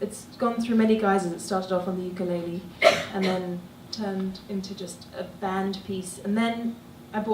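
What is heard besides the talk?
No everyday noises stand out.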